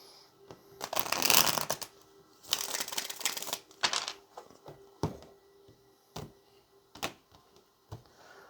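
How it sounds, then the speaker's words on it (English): Tarot cards being shuffled in a few quick bursts of riffling and flicking, with some softer taps and slaps between them, close by and fairly loud. "Let's get one more good shuffle."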